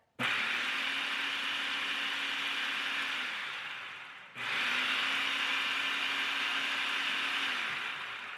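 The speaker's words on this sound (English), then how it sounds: "I'm just going to pulse this to mix it up" Two bursts of a food processor pulsing keto low-carb pizza dough mixture, each a steady loud whirring roar of about four seconds with a brief stop between, no talking.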